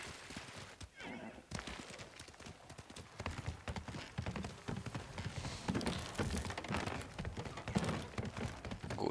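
Horse hooves clip-clop steadily in the video game Ghost of Tsushima, joined by a whinny near the start, with game ambience and a few thunks throughout; the steps sound close and moderately loud, with no talking.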